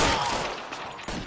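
Gunfire in the LA Noire video game, a quick burst of several sharp shots close together, loud and without talk.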